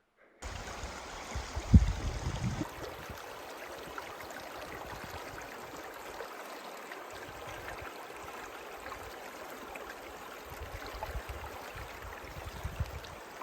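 Water flows in a steady, soft rush from a nearby river at a campground along the Dempster Highway, with a brief louder clatter near the start.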